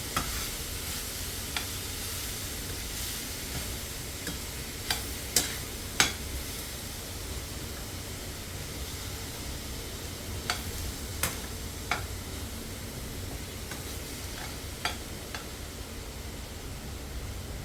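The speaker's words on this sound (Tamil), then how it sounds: "நல்லா கலந்து விட்டுக்குருவோம்." Spicy coconut sambal is mixed in a pan, a soft continuous hiss broken by sparse faint scrapes and taps of the spoon against the pan.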